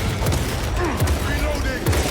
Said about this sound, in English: There they are. The orbital guns.